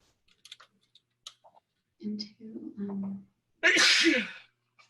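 A single loud, close sneeze bursts out after a few soft clicks and brief murmured sounds.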